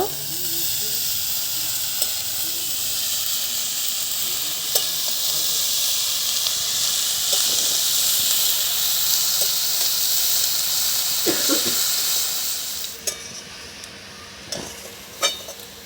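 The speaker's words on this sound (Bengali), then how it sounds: "বাঁধাকপিটা আলুর ওপর দিয়ে দিলাম। দিয়ে খুব ভালোভাবে বাঁধাকপিটাকে কষিয়ে নেব।" Shredded cabbage frying on top of potatoes in a pan for a vegetarian cabbage curry, a steady loud sizzle with occasional stirring scrapes, which quiets near the end.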